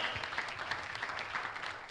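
A congregation at a Singkawang church service applauds, a faint, steady wash of many hands clapping at some distance with no talk over it.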